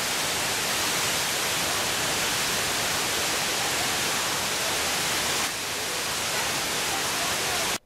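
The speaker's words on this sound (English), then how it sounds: "This is just a little recording of the waterfall." A waterfall in North Carolina gives off a loud, unbroken roar of rushing water. The sound stays steady throughout and stops abruptly at the very end.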